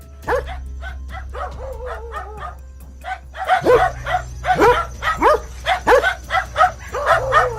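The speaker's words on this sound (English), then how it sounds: "We can see a dog barking repeatedly at something outside" A dog barks repeatedly on security camera footage, sharp yips and barks coming in bursts at first and then a faster string of them, with a steady low hum underneath.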